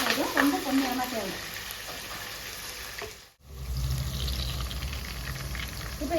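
Green chillies and garlic fry in a pan with a steady close sizzle, at one point briefly interrupted before resuming louder and fuller, while someone speaks over the cooking.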